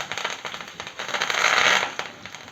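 Curry leaves crackling in hot oil for a hyacinth beans dish, a burst of sharp pops and spitting over a hiss that swells briefly, then settles back down.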